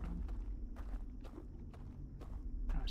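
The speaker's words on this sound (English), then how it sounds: "Where are those footsteps coming from?" Footsteps in the game Outer Wilds, a run of distinct crunchy steps at a steady walking pace, fairly close and clear over a low background rumble.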